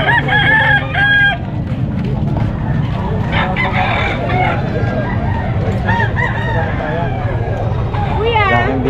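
Fighting roosters and chickens at a livestock market in San Carlos City, Pangasinan, with several roosters crowing and hens clucking close by and overlapping, amid steady market noise and people talking in the background.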